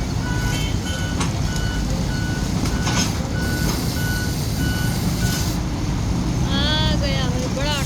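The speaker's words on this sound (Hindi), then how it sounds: "आ गया है बड़ा ट्रक।" Large truck reverses on a busy street, its backup alarm sounding evenly spaced beeps over heavy diesel rumble and traffic noise, with a horn-like tonal sweep near the end and voices in the background.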